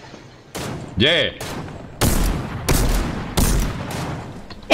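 Gunfire in the Fortnite multiplayer battle game rings out in several loud, sharp bursts spread over a few seconds, with a player talking between the shots.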